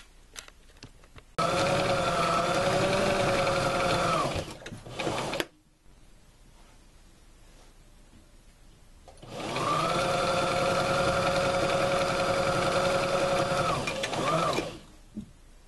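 Two long bursts of steady mechanical whirring from a sewing machine running at speed, separated by a short pause, close and loud.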